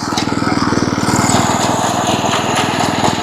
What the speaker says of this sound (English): I'm going to try not to run the engine up too much